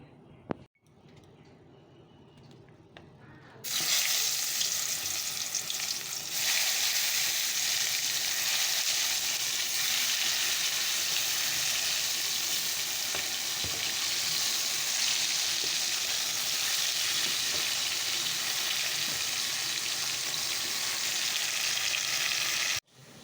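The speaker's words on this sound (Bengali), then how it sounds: "চলো বেগুনগুলো ছেড়ে দিই" Eggplant slices hit hot oil after a few quiet seconds, setting off a loud, continuous close-up sizzle that holds steady for about twenty seconds.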